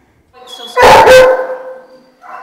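A stray dog at the SPCA animal shelter in Fredericton gives one loud, close bark, followed by a fading ringing tone and a softer sound at the end, with no talk during it.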